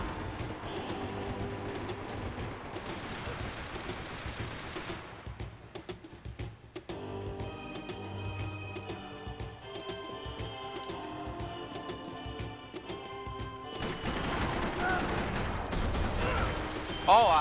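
Bursts of gunfire crackle during a Max Payne 3 multiplayer match, mixed in with game music and mechanical effects that run throughout. The shooting swells louder near the end.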